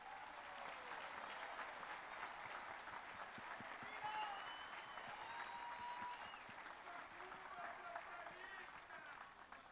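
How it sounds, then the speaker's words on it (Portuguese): Sustained applause from a large crowd at the opening ceremony of a Brazilian PT party congress, honoring international delegations; steady dense clapping throughout with some scattered voices, fairly quiet overall. "Eu gostaria de pedir uma salva de palmas aos nossos representantes das delegações"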